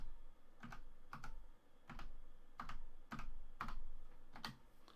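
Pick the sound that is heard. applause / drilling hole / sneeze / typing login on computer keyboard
typing login on computer keyboard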